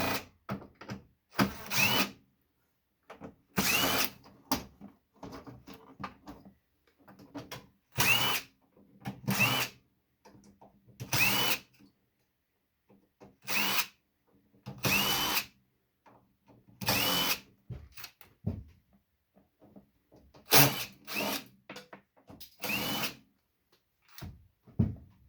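A power drill backs screws out of a fax machine, its motor whirring in repeated short bursts separated by quiet pauses, close and moderately loud, with faint clicks of parts being handled between runs.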